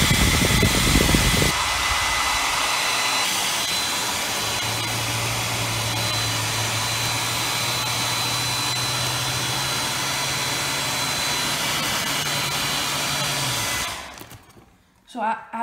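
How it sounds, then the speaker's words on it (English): A hair dryer blows steadily at the blades of a small wind turbine model for an electric vehicle demonstration, a loud continuous whoosh with a low hum that runs for most of the stretch before cutting off near the end. "So we're using a hairdryer, as shown before, to simulate the wind speed."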